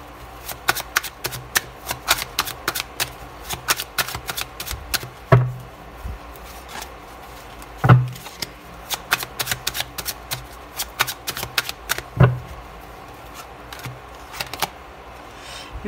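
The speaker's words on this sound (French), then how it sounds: "je vais poser les six cartes" Tarot cards are shuffled and laid out, giving a run of crisp, close riffling flicks and soft slaps of cards landing on a surface. Three heavier taps stand out among them, with no voice heard.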